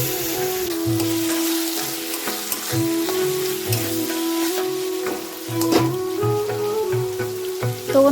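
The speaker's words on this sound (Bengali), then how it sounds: "এই দেখো এখন আমি এটা বানাচ্ছি শুকনা মাছের চাটনি" Dried fish chutney cooks in a pan, giving a steady sizzle with occasional stirring scrapes, heard throughout under sustained tonal background music.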